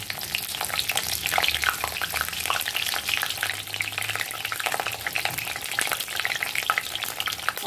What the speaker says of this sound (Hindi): ऑयल हीट हो गया तो इसमें मैं डाल रही हूँ ये गोभी के पीसेस।